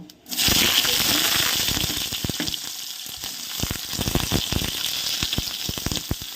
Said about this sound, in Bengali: বেগুন আর মূলো। আমি দুটোই একসাথে দিয়ে দিলাম। এবার এটাকে ভালো ভেজে নিতে হবে।